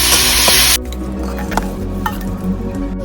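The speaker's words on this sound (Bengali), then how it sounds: "নাড়া হচ্ছে পেঁয়াজ আর আলু" Onions and potatoes stirred in a wok, a loud hissing sizzle at first that drops to a steadier fry with scraping and clinks of the utensil against the metal.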